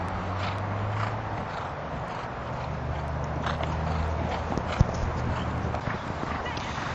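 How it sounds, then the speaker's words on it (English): Horses warm up in the practice ring at a showjumping club before a 1.35 m class, their hooves clip-clopping in a steady, irregular patter under a continuous outdoor background murmur. "A few horses warming up for the metre 35 main class."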